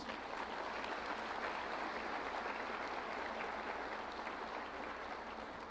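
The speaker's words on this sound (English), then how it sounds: "Let's do a round of applause and thanks." A large commencement ceremony crowd claps in sustained, dense applause, steady and moderately distant, with no break across the whole stretch.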